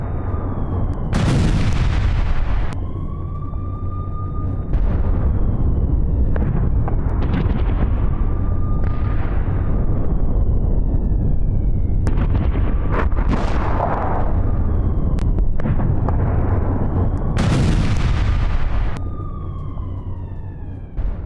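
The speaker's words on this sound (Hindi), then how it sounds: "ईरान ने इजराइल पर 200 मिसाइलें दागी।" Missile strike explosions in Israel during an Iranian barrage of about 200 missiles, from news footage: loud, repeated booms and crashing bursts over a constant roar, with wailing siren-like tones rising and falling throughout.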